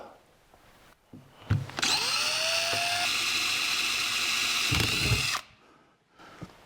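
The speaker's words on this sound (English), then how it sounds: "And drill an 1/8 inch pilot hole." A power drill bores a 1/8 inch pilot hole for a seat base in a 1949 Chevrolet gasser, a loud, steady high whine lasting about three and a half seconds alone, with soft handling clatter before and after.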